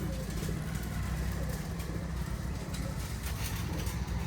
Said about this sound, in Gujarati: સરસ મજાનું જો કબૂતરો છાયડામાં ચણ ખાઈ રહ્યા છે.